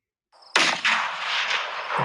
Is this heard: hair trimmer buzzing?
no